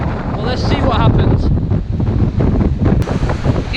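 Stormy weather on a beach, with sea waves pushing sand under constant loud wind buffeting the microphone, a steady rough roar throughout.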